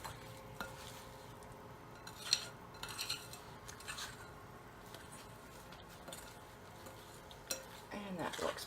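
Scone dough being stirred and mixed in a bowl for cast iron baking, with soft scraping and clinks of a utensil against the bowl at irregular intervals, close and fairly quiet.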